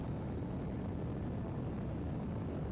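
A plane engine in Kerbal Space Program 2 drones as a steady, even roar with broad rumbling noise throughout, no voices.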